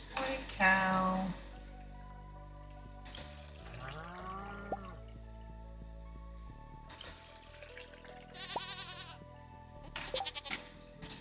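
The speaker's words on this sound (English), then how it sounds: "Goat." A goat bleats on a winter farm in Stardew Valley, a short wavering cry among light game effects and a soft chime-like backdrop, with a few other farm-animal calls scattered through.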